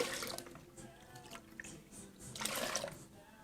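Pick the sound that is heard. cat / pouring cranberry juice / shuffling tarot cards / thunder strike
pouring cranberry juice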